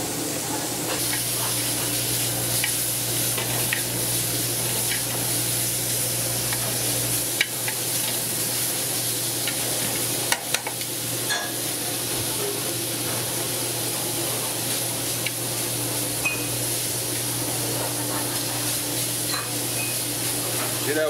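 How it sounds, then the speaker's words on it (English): Beef tips searing in a hot skillet for a Marsala dish, a steady close sizzle and hiss running throughout with occasional scraping stirs, no one talking. "See that, we're just searing it off."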